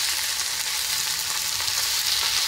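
Spices with asafoetida and turmeric sauté for an okra curry in a pan, a dense and steady loud sizzle of frying that continues without a break.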